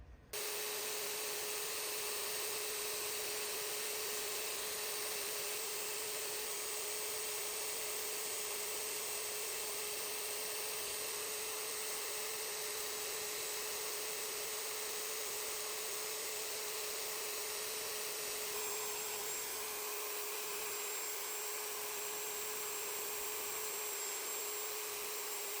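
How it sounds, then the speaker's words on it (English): A router fitted with a 1/8 inch CNC bit carves wood, giving a steady high-pitched whine with a continuous grinding buzz that holds level and close throughout, dipping slightly near the end. "I'm going to change my router bit and I'm going to carve a bit deeper"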